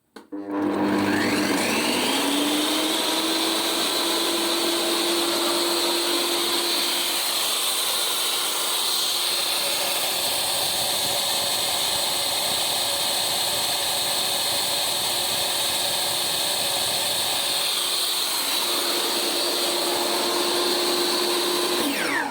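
Metabo TS 254 M table saw running after an armature replacement: the motor spins up from a start, holds a loud, steady whine for about twenty seconds, then briefly dips and rises again.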